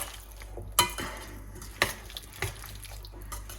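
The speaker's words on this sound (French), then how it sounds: "je vais mélanger doucement pour pas écraser les tomates" A spoon gently stirs a tomato vinaigrette in a bowl, giving a few soft clinks against the side between quiet wet scraping, close and alone.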